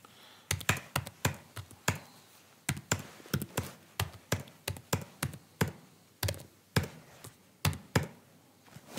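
Fingers tap numbers on a computer keyboard, producing crisp, close keystrokes in quick irregular bursts with short pauses, alone with no voices.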